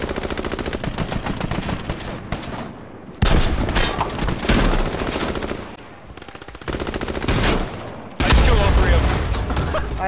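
Rapid automatic gunfire in a video game shootout, loud and close, in several long bursts broken by brief pauses, with a voice talking over it.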